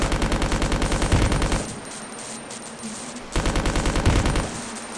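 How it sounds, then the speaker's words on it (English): Rapid automatic gunfire pummels an enemy in the video game Resident Evil Code Veronica, loud and close, in two sustained bursts separated by a short quieter gap. "we successfully peppered him with bullets"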